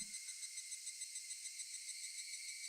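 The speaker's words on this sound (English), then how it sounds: "Only the cry of the cicadas remained, annoyingly loud." Cicadas drone in the video game Higurashi When They Cry, a steady, loud, high-pitched buzzing chorus with a faint pulsing rhythm that fills the whole stretch without pause.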